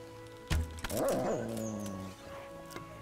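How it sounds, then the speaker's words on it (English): In a Kingdom Come Deliverance medieval game fight, a dog barks and snarls close by, with a sharp impact, a growling whine, and a few scattered yips, all over a low, steady ambient drone. "Dog took him down."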